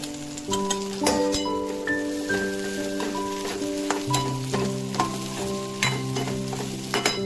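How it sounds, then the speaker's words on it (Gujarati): Okra frying and being stirred in a hot pan, a continuous close sizzle with repeated scraping and light clinks of a utensil against the pan, no talking. "આપણે આપણા ભીંડા નાખી દઈશું."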